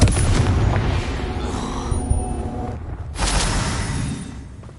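The Confringo explosion spell goes off in Hogwarts Legacy, a loud booming blast with a rumbling, crackling tail that fades, followed by a second burst of noise near the end.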